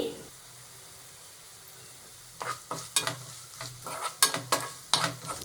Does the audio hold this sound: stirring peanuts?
yes